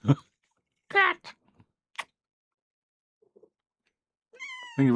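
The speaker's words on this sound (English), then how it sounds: "Cat." A cat meows several times indoors, short harmonic cries separated by silence, close and clear, with brief voice sounds between them.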